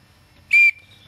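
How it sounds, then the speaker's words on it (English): A small whistle built into the back of an ABS plastic knife sheath gives one short, loud, piercing blast, with a faint tone lingering briefly after. "with a whistle on the back."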